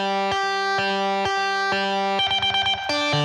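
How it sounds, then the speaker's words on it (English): An extreme arrangement of Mozart's G minor runs through distortion amps with reverb and delay, giving loud, sustained, buzzy chords that start in steady repeated hits and then break into faster stuttering notes. "Those are distortion amps. And my reverb and delay."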